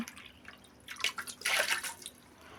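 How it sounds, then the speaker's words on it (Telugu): Water poured from a cup into a pan, three cups for jalebi syrup, heard as a faint dripping trickle that swells into a brief splashing pour near the middle, close up with no voices. "అదే కప్పుతో 3 కప్పులు నీళ్ళు పోసుకుంటున్నానండి"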